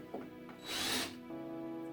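A power drill whirs in a short burst while an IKEA kitchen drawer handle is installed, rising to a loud, close spin before settling into a steadier mechanical hum.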